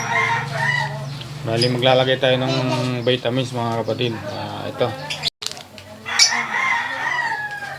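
Breeder birds in a backyard coop cluck and crow at close range, with someone talking over them most of the time and the birds heard more clearly in brief gaps.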